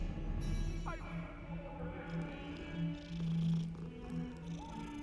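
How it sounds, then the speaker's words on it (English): A cat in the Hogwarts Legacy video game gives a brief meow near the start, followed by soft purring and low creature sounds over a background of game music and ambience. "There's a cat!"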